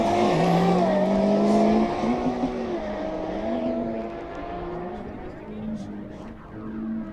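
A 600 hp all-wheel-drive Subaru tuner car and an 800 hp rear-wheel-drive Ferrari drag race from a standing start, loud engines climbing through the revs with rising and falling pitch as gears change, one car's shifts sounding fumbled.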